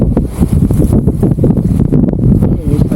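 Strong typhoon wind at night during a signal number 4 storm in Pangasinan, loud gusting roar buffeting the microphone in uneven surges, with faint voices in the background.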